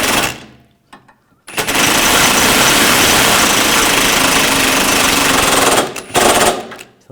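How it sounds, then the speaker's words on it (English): An impact wrench drives a 15mm socket to tighten a front sway bar link nut on a 2009-2010 BMW 535i xDrive, a loud continuous rattling buzz of about four seconds that cuts off, with a short extra burst after. "then a 15mm socket, tighten the nut down."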